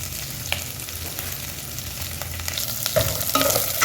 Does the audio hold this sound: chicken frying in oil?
yes